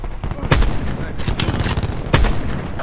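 Gunfire rattles in the Call of Duty Black Ops 4 multiplayer mode, with several sharp bursts and rapid shots spaced across a steady background of battle noise.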